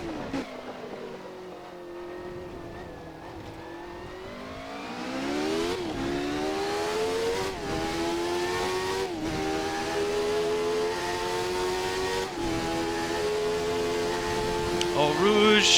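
Jordan 191 Formula One car in a racing video game pulling away from a pit stop, its engine revving up through several gear changes with rising, falling whines, loud and close the whole way.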